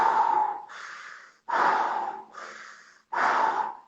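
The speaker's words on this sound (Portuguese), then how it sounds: "Respiração conectada, meu irmão." Connected breathing through a snorkel tube and mask: three deep inhales alternate with exhales in a steady, continuous rhythm, loud and close with an airy, hollow rasp.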